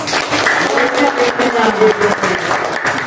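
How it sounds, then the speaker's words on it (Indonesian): Classroom applause for a student group, with short bursts of clapping mixed with children's voices and chatter, lively and close. "kita beri tepuk tangan"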